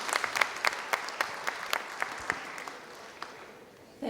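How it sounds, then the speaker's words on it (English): An audience at the close of a Dr Taariq Ramadan session claps, with irregular individual hand claps that thin out and fade over a few seconds. "please do give a round of applause to all of us"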